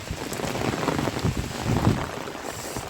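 Heavy monsoon rain pours down steadily outdoors near a tethered cow, a dense continuous wash of noise with no voices.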